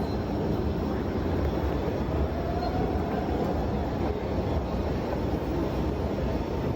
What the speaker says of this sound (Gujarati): આવી ગયા આપણે બર્લિન સેન્ટ્રલ રેલવે સ્ટેશને.